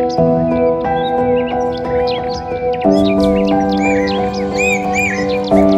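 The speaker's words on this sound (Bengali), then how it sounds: "চারদিকে কি সুন্দর পাখির ধ্বনি" Birds call and crows caw in the countryside as bright chirps and short calls scattered over a steady layer of sustained musical tones.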